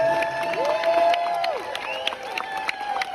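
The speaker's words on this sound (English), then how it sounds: "There's the applause again." A crowd at a Missouri county presidential caucus in Cape Girardeau County applauds and cheers amid background commotion, with tonal whistle-like sounds rising and falling over the clapping.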